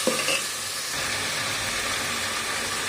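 Minced meat with tomato and green chilli sautéing in a pan gives a steady broadband sizzle with stirring scrapes, a brief clatter near the start, then continuous frying close by with no talk.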